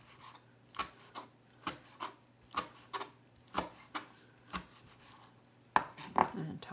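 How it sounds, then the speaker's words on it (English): Roasted red peppers being sliced into slivers with a knife on a board, a run of evenly spaced crisp chopping taps, close and fairly quiet, with no talk. "Just cut them into little slivers or little slices."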